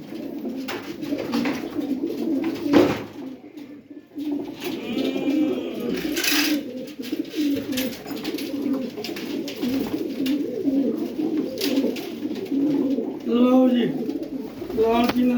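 Pigeons coo softly and continuously in the background while someone talks over them at length, with some handling noises and rustling nearby, at a pigeon sale.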